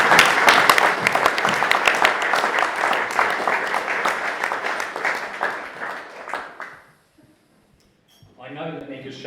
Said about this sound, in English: we'll give them a round of applause anyway